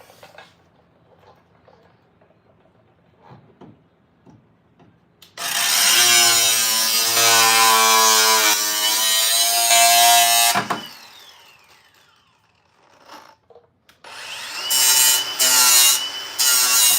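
An angle grinder works a truck's front axle in two loud, harsh bursts, about five seconds and then three seconds long, with quiet shop clatter between them.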